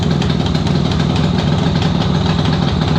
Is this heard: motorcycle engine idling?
yes